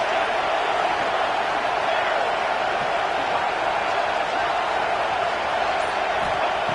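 A stadium crowd at a football game roars steadily, a dense, loud wash of cheering and noise that holds at an even level throughout.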